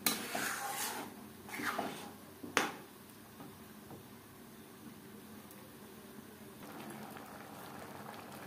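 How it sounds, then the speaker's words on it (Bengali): A spoon stirs egg khichuri with dal in a cooking pot, with a few scraping clatters early on, then a low simmering bubble that carries on quietly. "এভাবে একটু নাড়াচাড়া করে দিতে হবে, না হলে তলা লেগে যাওয়ার সম্ভাবনা থাকতে পারে।"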